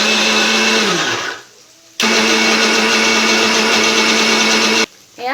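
A kitchen mixer grinder whirs loudly as it grinds the cooled, lightly fried ingredients for palak paneer, running in two bursts with a short pause between and a brief restart at the end.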